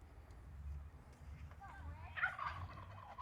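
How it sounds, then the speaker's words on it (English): Turkeys gobble at a distance in a brief burst, heard behind a steady low hum and muffled shop noise while someone works soldering wiring on a Kenworth K100 cabover truck. "Your turkeys are gobbling."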